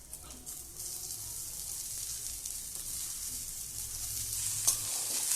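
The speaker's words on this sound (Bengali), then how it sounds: "এর মধ্যে আমি কুচি করে কেটে রাখা কলমি শাকটা দিয়ে দেব" Chopped water spinach stir-fried with boiled and fried brinjal in a pan over a low gas flame, giving a steady close sizzle with occasional stirring scrapes and one sharp clink near the end.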